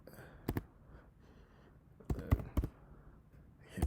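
Someone types a pip install command on a computer keyboard: a few faint, quick clusters of key clicks separated by short silences in a quiet room.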